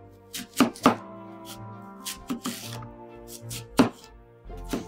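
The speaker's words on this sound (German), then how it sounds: "Der Apfel wird in genauso kleine Stücke geschnitten wie die Kartoffeln." Knife chopping an apple into small pieces on a cutting board for a mayonnaise-free potato salad, a series of sharp, close thuds in irregular bursts with short pauses and no talk.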